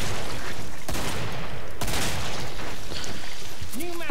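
Rapid bursts of gunfire blast away at zombies in the video game Killing Floor, loud and nearly continuous, with heavy shot clusters and a short voice-like sound near the end.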